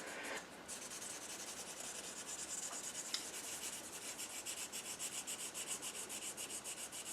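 Sandpaper rubbing smoothly over filler on a die-cast Dinky Toy Ford Zephyr during restoration, a steady close scratching with regular back-and-forth strokes, alone and without talk.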